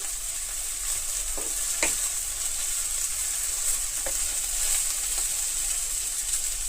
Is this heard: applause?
no